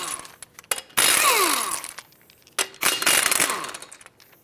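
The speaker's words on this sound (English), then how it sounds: "Continuing with the 19 millimeter socket, take off all five of your lug nuts and then remove the wheel." Impact wrench spinning off the five 19 mm lug nuts from the rear wheel of a 2006-2011 Chevrolet HHR: two loud bursts of ratcheting, buzzing power-tool noise separated by brief pauses and short clicks, close to the microphone.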